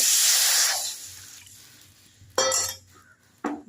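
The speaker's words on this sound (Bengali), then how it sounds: "এখানে জিরাটা ফোড়ন দিয়ে দিয়েছি। এর মধ্যে আমি একটু এখন জল দিয়ে দেব।" Water poured into a hot oil-free pan of tempered cumin flashes into a loud, bright hiss of steam that fades over a second or two, followed by two sharp metallic clinks of a utensil against the pan.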